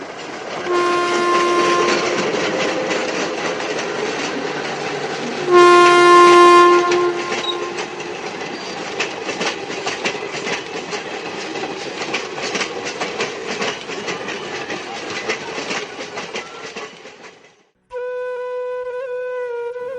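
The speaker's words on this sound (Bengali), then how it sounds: "ট্রেন আসছে মনে হয়, আর ট্রেনটা ক্রস করে যাক" A train passes a rural level crossing near Kolkata in West Bengal, its harmonic horn blaring loudly twice over a steady rumble and rattle of wheels, then a long, sustained horn or whistle tone rings out alone as the train clears.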